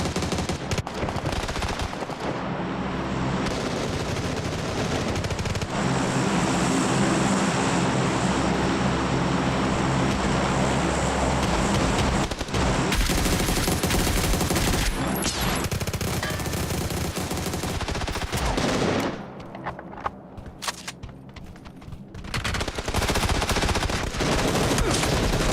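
Sustained video game gunfire rattles almost without pause, dense automatic bursts layered with heavy reports that thin out briefly toward the end before picking up again.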